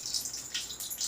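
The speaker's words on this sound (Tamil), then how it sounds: "கடுகு பொரிஞ்சிருச்சு." Mustard seeds spluttering in hot oil in a kadai for mango and drumstick sambar, a quiet crackle of small bursts with no voices.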